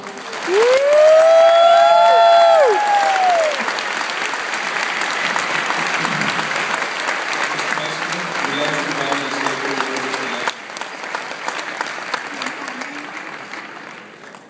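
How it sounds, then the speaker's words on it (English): An audience at an award dinner claps steadily and warmly, loud at first and then settling into sustained applause, with a voice speaking briefly at the start. "Please join us in applauding Mrs. Yamila Castro."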